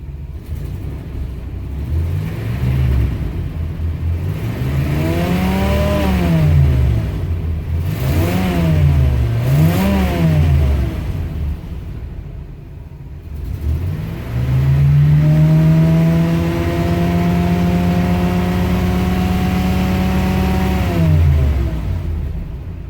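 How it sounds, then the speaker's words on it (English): A car engine revs up and down in several quick surges, then holds a long, rising, steady rev before dropping back, loud and close. "I'm gonna hit the gas a little bit and see how she sounds"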